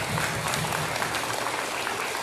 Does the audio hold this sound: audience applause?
yes